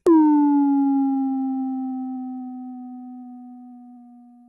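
A steady pure 200 Hz sine tone with faint overtones starts abruptly and slowly fades over several seconds, heard alone.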